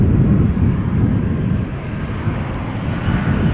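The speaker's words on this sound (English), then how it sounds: "Transavia 737-800 arriving from Nice." A Transavia Boeing 737-800 arriving at Amsterdam Schiphol from Nice makes a steady, loud, close jet roar with heavy low rumble that holds nearly level for the whole stretch, with no voices over it.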